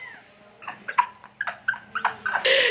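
A dog whimpers and yelps close by in a string of short, high, uneven cries that grow more frequent and end in a longer whine.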